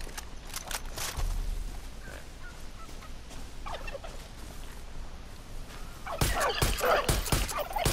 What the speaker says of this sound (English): I'm about to shoot the freaking turkey